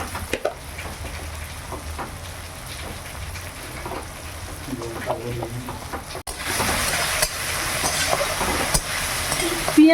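Onion and tomato frying in oil in a pan with cardamom, cloves and cinnamon, giving a steady close sizzle with stirring scrapes that grows louder and denser in the second half; rain can be heard faintly in the background.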